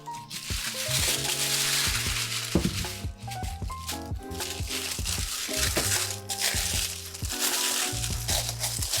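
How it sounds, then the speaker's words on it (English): Paper is crumpled and crinkled continuously up close, a dense, steady crackling texture that runs throughout, with some faint tonal background beneath it. "talking while the paper's crumpling"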